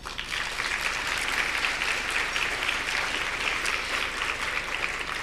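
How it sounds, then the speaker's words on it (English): Sustained applause from a dinner audience at a women's forum, a thick even wash of many hands clapping at once, steady and fairly loud for the whole stretch. "Please, big round of applause for Shannon."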